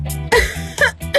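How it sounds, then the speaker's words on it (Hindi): A person coughs a few times in quick, harsh bursts, close and loud, in a Hindi-dubbed drama scene. "तुम्हें खांसी हो रही है?"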